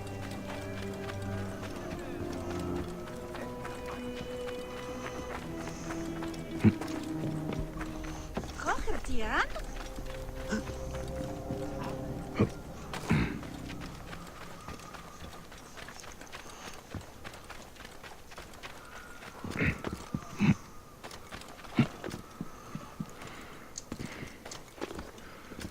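Donkey hooves in the Assassin's Creed Origins video game clop in irregular bursts over a game soundscape with music early on, with speech heard in places.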